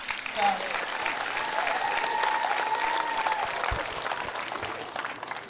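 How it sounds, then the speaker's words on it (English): Steady applause from a commencement crowd for Palau High School's 60th graduation, dense clapping and cheering held at an even level throughout, with a few brief tones and a voice rising above the noise. "we deserve all the applause, cheers, screams, whatever congratulatories you can think of"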